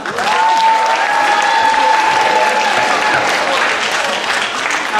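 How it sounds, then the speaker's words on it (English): An audience at a school step-up day gives a loud, continuous round of applause, with a faint voice briefly audible underneath. "let's give her a round of applause"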